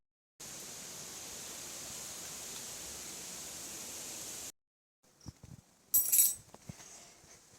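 Steady, even rain falling for several seconds, a dense hiss that cuts off abruptly, followed by quieter scattered clinks and rustles.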